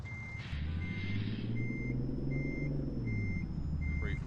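Kenworth K100 truck in a trucking video game reversing, with regular electronic backup beeps over a low engine drone, moderately loud and steady.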